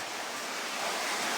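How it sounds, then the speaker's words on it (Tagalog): Very heavy rain pours in a steady, dense broadband hiss that stays loud and unbroken throughout, with no voices. "Sobrang lakas ng ulan."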